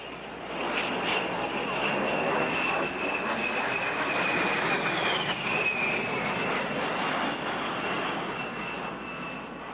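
An A-10 Thunderbolt II jet making a pass at Barnes Municipal Airport, its engine roar swelling in quickly, holding loud with a whining tone that bends as it goes by, then easing slightly.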